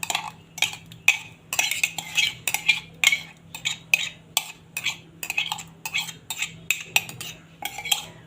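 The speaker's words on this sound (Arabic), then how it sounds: "ونقلب الخضار ده كله مع بعض علشان يديني كده طعم حلو في شوي الفراخ" Vegetables are tossed with leftover marinade in a baking tray for roasting chicken, a utensil scraping and clinking against the tray in quick repeated strokes, close and fairly loud.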